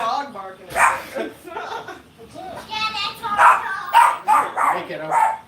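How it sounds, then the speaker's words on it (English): A small dog yaps in quick, high bursts close by, mixed with a voice and other people talking. "And a little dog barking at me."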